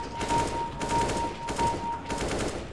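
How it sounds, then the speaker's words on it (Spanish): Rapid automatic gunfire spraying in CS:GO or Valorant, coming in about four loud, sustained bursts separated by short gaps, with no voices. "vamos a disparar hacia todos lados"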